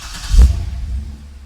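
A 2008 Chevrolet Corvette C6 with its check engine light on runs close by, giving a low, steady rumble with one brief swell in the first half-second before settling back to an even note.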